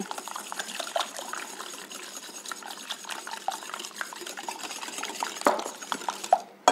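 Milk being whisked into a quiche batter with thyme, a quick rhythmic scraping and tapping of a whisk against a bowl with faint liquid slosh, close and moderately quiet, ending in a few louder knocks.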